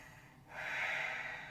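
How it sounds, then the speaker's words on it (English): A person in a yoga pose takes a slow breath that begins with a brief pause, then swells into a long, steady airy rush through the nose, close and soft, with no speech. "Try to just listen to the sound of your breath."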